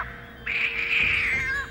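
Cartoon cat in an old Voltron animated series giving a single drawn-out, high meow that rises and trails off, loud and close, with no talking over it.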